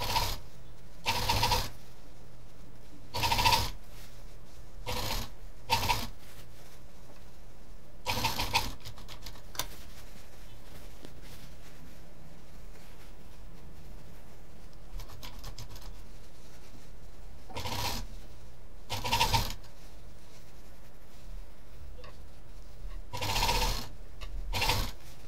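Sewing machine stitching the seams of a three-pocket bag at home, in repeated short whirring runs of a few seconds each separated by quiet pauses, close and fairly loud with no talking.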